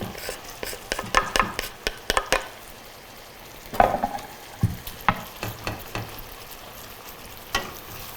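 Garlic hits a hot pan alongside browned beef for ragu noodles, giving a quiet background sizzle under a series of irregular stirring scrapes and clacks of a utensil against the pan, no talk.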